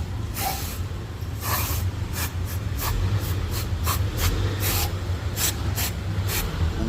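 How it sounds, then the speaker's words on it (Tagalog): Cleaner sprayed onto turbocharger and EGR valve parts from an Isuzu Crosswind in a garage, heard as a string of short, sharp hissing bursts in an uneven rhythm over a steady low hum, with no talking. "Siyempre babalawan lang natin ng konting spray."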